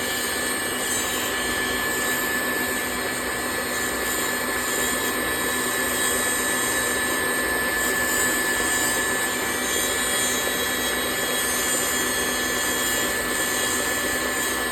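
KitchenAid stand mixer with a whisk attachment whipping cream at speed 10 for butter, a loud, constant high-pitched motor whine and whir that runs unchanged throughout.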